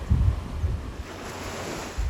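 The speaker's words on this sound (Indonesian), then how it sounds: "kita menikmati pemandangan di tepian pantai ini dengan desiran ombak" Ocean waves wash along a beach shoreline, a soft rushing surf mixed with gusty wind buffeting the microphone, steady and fairly close with no talking.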